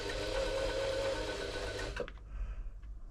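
A freshly serviced and oiled Riccar 8400 sewing machine runs with a steady, close mechanical whir and hum for about two seconds, then stops, leaving a few faint clicks.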